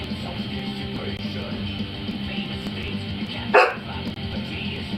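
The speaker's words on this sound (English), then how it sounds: "now you're just barking right at me" A dog barks at close range, one loud sharp bark standing out among softer yips and whimpers over a low steady background hum.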